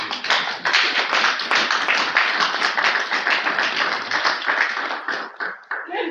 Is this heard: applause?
yes